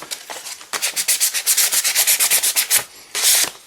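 An old Tootsietoys toy being restored is rubbed with sandpaper in quick, even back-and-forth strokes, a close, rhythmic rasping that pauses briefly before one last longer stroke.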